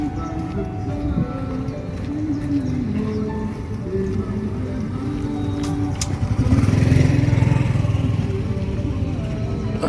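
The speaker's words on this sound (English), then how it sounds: "Too many motorbikes today." Motorbike engines drone and rev along a road, one passing louder partway through, over a background of distant music and faint voices.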